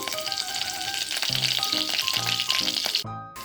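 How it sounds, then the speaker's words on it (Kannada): A bay leaf sizzles in hot oil while being stirred for a dill-leaf pulao, giving a steady, close frying hiss broken by short stirring scrapes, with no voices. "ಪಲಾವ್ ಎಲೆ ಹಾಕ್ತಾಯಿದ್ದೀನಿ ಹಾಕ್ಬಿಟ್ಟು ಇದನ್ನು ಸ್ವಲ್ಪ ಕೈ ಆಡಿಸ್ಬೇಕು"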